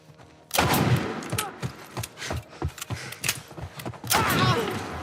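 El Diablo revolver shots in The Last of Us Remake, a rapid string of loud, sharp gunshots with echoing tails, clustered into bursts, with a heavy blast near the end.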